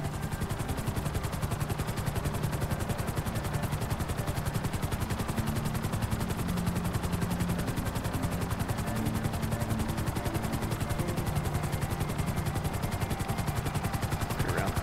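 Helicopter in GTA 5 flying steadily, a loud continuous rotor chop and engine drone with a fast rhythmic pulse that stays close and constant, with no voices over it.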